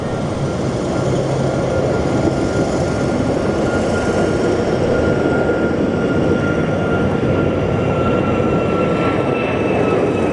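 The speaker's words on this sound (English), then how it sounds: "So let's watch a 737 MAX take off." A loud, continuous jet roar from a Boeing 737 MAX taking off, a dense rumble with a faint steady whine above it, unbroken and without talk.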